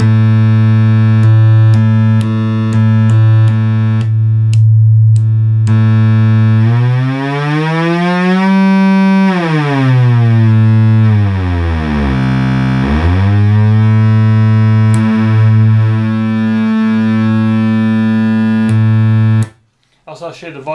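A restored Minimoog synthesizer sounds a loud, buzzy sustained oscillator 2 tone whose pitch sweeps up and down in smooth glides before the tone cuts out near the end.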